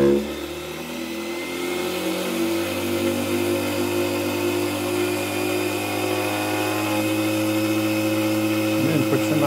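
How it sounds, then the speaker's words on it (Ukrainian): A vacuum cleaner motor running off high-frequency power, its steady whining hum rising slightly as it spins up, with pitched tonal bands throughout, alone and close. "От у нас двигун від пилосмока, який я вже включав в попередніх відео."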